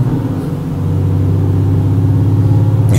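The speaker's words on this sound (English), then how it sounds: "You hear the gears grunching every now and then because the engine rattling or something because it's damaged" A damaged truck engine in Euro Truck Simulator 2 drones with a steady, loud low hum while driving, the tone constant throughout, with a faint brief clunk near the end that could be the gears grinding.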